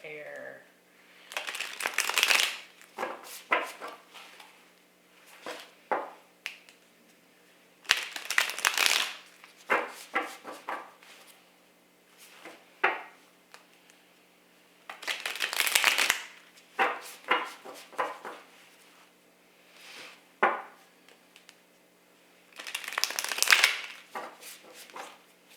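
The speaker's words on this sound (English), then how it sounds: "Give this a good shuffle here" A deck of tarot cards is shuffled repeatedly in bursts of rapid riffling and slapping, close by, with quiet pauses between rounds and a voice speaking intermittently.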